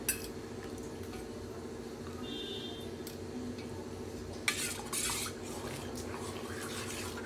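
A spoon stirring milk in a pan on the stove as it curdles, with soft scrapes and light metallic clinks over a low steady hum, one brief louder scrape midway.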